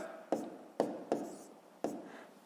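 A pen taps and scratches on paper while math answers are written down, four distinct strokes spaced unevenly, close and quiet.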